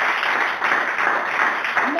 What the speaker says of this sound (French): Applaudissons donc le Seigneur.